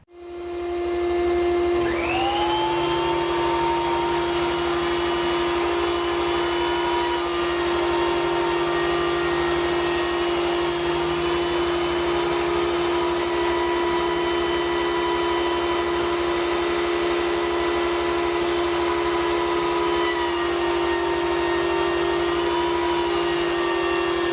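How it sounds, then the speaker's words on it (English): A Grizzly G0947 8-inch benchtop jointer spins up and runs for test cuts: a steady, loud motor whine with high tonal harmonics that holds nearly unchanged for the whole stretch, with no voices. "let's do some test cuts with this thing and see how it works"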